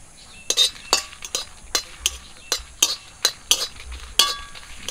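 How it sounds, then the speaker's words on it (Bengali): Dry red chillies are dry-roasted in a pan and stirred, with a brisk run of sharp metallic clinks and scrapes from a utensil against the pan, close and fairly loud, with no talking. "তো প্রথমেই কিন্তু আমি শুকনো মরিচগুলো একটু ভেজে নেব।"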